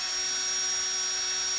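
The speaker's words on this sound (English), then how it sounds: "use oil whenever you're drilling into this metal" Drill bit boring steadily into metal lubricated with motor oil, a continuous high whine with a fixed tone heard close and alone, with no pauses or voices.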